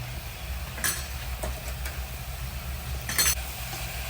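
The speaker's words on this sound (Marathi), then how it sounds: "आता ते परतून घेऊया चांगलं" Vegetables with soy sauce sauté in a pan, a steady close sizzle broken by a few scraping stirs and light clinks of a spatula against the pan.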